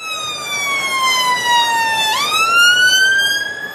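A loud, continuous ambulance siren wails as it passes in Birmingham, its pitch sliding down then rising again as it goes by.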